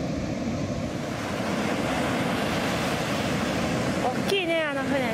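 Steady ocean surf rolls in at a beach on the Gold Coast of Australia, with constant wash and wind noise on the microphone and a brief high squeal near the end.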